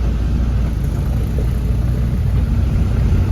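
A loaded truck carrying sugar rolls along the Surat–Vadodara main road in Gujarat, its engine a steady mid-pitched rumble with continuous road noise and whir, close and constant throughout.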